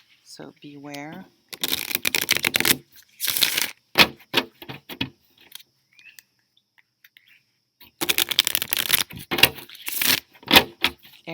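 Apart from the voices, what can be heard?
shuffling a deck of tarot cards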